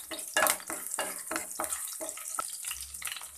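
Green chillies and whole spices sizzle and crackle steadily in hot oil in a pan, with stirring scrapes and a few sharper pops, close and continuous without any talk.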